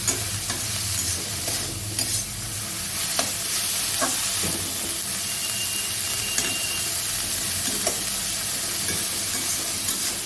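Kharkol leaf paste fries steadily in a pan with a continuous close sizzle, broken by occasional scraping stirs against the metal and no voices.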